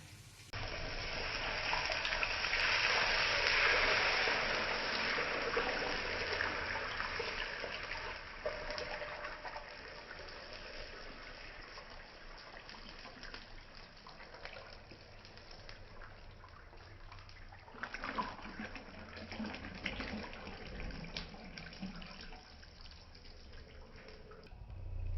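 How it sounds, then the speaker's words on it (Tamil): Half a cup of water pours into a pan of roasted semolina for kesari, a close, fairly loud splash and sizzle that settles into a quieter bubbling trickle. "அதே கப்ல 1/2 கப் தண்ணி ஊற்றலாம் ஃப்ரெண்ட்ஸ்"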